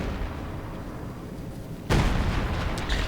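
Sector artillery barrage in Company of Heroes, a World War II real-time strategy game: a steady low rumble of distant fire, then a loud blast bursts in around two seconds and the heavy roar carries on with further impacts.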